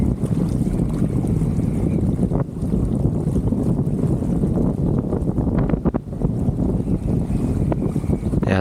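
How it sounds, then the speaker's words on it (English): Steady, heavy wind roars across the microphone of a sailboat on a gusty mountain lake, with water rushing and splashing beneath throughout, with no letup. "There's another gust you can see coming from my starboard side there."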